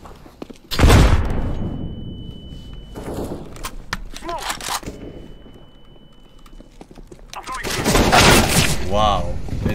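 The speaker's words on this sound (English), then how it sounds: "Throwing flashbang." A flashbang grenade bursts in the video game CS:GO with a sharp loud blast near the start, followed by a lingering ringing tone, while players talk over it and another burst of noise comes later.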